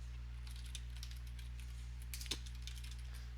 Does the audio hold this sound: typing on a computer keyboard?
yes